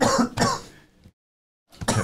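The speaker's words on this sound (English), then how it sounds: "Sorry, I've just got a cough." A man on a tradesmen's podcast coughs and clears his throat twice in quick, harsh bursts close to the microphone. A second of silence separates the bursts from another rough throat-clearing.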